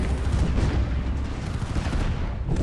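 Dense, continuous gunfire and artillery rumble from a battle in the video game Art of War 3 fill the whole short stretch, loud and booming, with no talk.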